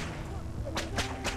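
A whip in the video game ARK, cracking three times in quick succession, sharp and fairly close over a steady low background rumble, with no talking.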